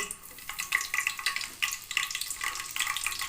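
Cinnamon, cloves and stone flower fry in hot ghee and oil for quail biryani, a dense crackling sizzle full of rapid close spattering pops with no talk over it.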